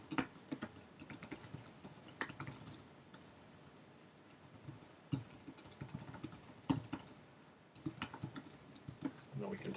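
Typing code on a computer keyboard for a number-guessing game program, with bursts of quick, crisp key clicks separated by short pauses, close and fairly quiet.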